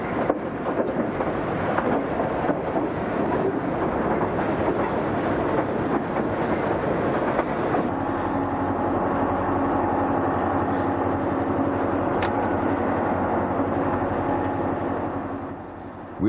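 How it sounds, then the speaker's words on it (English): The Zephyr, a diesel passenger train, grinds uphill out of Denver past Crescent, a continuous heavy engine roar and rolling rumble that steadies into a droning hum, with a short sharp squeal near the end. "A freight train with GP30s is waiting on the siding at Crescent as the Zephyr continues its"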